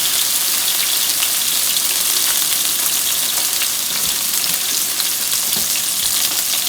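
Salmon sears in hot oil, making a loud, dense, continuous sizzle that stays steady and close throughout with no voices.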